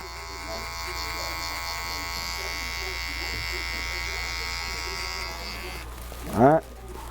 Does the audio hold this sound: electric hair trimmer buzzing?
yes